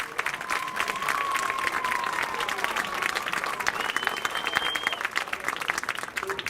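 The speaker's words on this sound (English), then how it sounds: "Now let's please give all of our candidates a round of applause." Crowd at a varsity high school football game applauding the homecoming candidates, a steady wash of clapping heard from a distance while a faint tone sustains over it.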